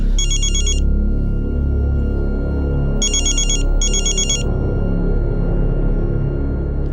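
Telephone ringtone chiming in short electronic bursts, one near the start and a double burst a few seconds later, loud over a low background hum.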